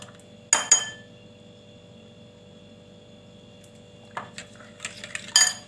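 A spoon clinks and scrapes against a bowl while salad is stirred with oil, salt and vinegar; a few sharp clatters come at the start, then a quiet gap, then a livelier burst of clinking near the end, with no talking.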